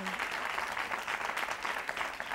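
Continuous applause from an audience, a dense, steady clatter of many hands clapping throughout.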